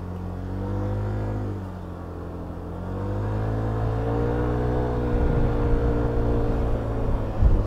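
A Yamaha XMAX 125 scooter (2020) cruises on a motorway, its engine drone rising and falling in pitch under steady wind and road rumble, loud and close, with a few gusts of buffeting near the end.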